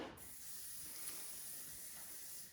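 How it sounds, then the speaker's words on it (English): A steady, soft hiss of hair spray sprays continuously for a couple of seconds, then cuts off. "so I'm gonna spray it for her"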